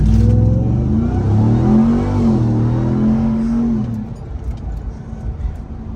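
Ram TRX pickup driven at night, a deep engine roar accelerating hard and loud for several seconds, then easing off into quieter road noise.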